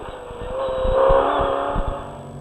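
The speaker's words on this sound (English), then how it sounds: "Terence Marsh doesn't make life difficult for the RFS BMW X3 to complete the pass." Rally cars racing at the Toyota 1000 in 2015 as a BMW X3 overtakes a Nissan Navara, engines droning steadily and swelling as the cars pass close by, with a few low thumps beneath.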